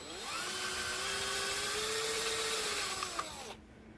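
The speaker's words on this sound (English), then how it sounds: "when I start drilling this hole here" A drill bores a hole into a 3D printed plastic snow blower part, giving a steady whining buzz that holds for over three seconds with slight pitch dips, then cuts off abruptly near the end.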